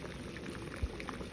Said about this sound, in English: Can you hear it bubbling?